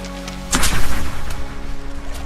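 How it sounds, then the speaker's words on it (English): A pistol shrimp's specialized claw snaps shut underwater, giving one sharp, loud crack followed by a rumbling, slowed-down decay over a constant low hum. "The shrimp's claw snaps with such incredible speed."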